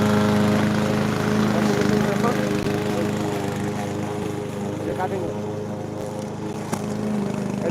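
A grass cutting machine trimming carpet grass in a garden, its engine droning loudly and steadily throughout, with a voice speaking over it.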